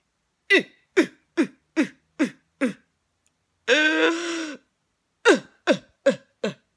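A voice imitates loud crying: a run of sharp rhythmic sobbing gasps, one long wailing cry, then more quick sobs, close and alone.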